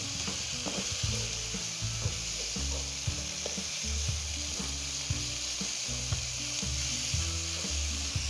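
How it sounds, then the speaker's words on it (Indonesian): Vegetables are stir-fried in a pan and stirred until wilted and fragrant for a white mustard greens and egg dish, giving a steady close sizzle with repeated scraping and stirring knocks. "Sambil kita aduk-aduk, di sini kita akan menumisnya sampai layu dan wangi ya"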